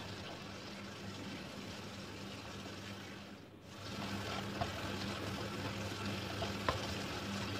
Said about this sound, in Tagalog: Pagsasama-samahin ko na guys yung tatlo. Ayan, igisa lang ng mabuti.